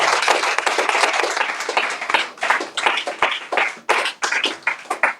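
A church congregation claps together in a dense burst of many hands that thins into uneven, rhythmic clapping, close and loud, with no speech over it.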